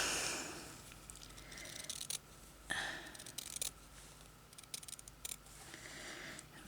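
Scissors cutting out a fabric flower for a slow-stitch sampler, giving faint, close, irregular snips and scrapes over a quiet background.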